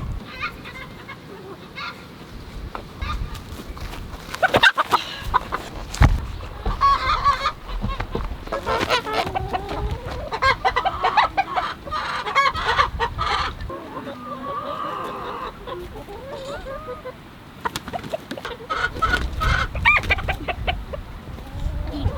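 Chickens in a backyard garden cluck and squawk at close range over about twenty seconds, with bursts of honking calls, rustling and handling noises, and occasional faint voices in the background.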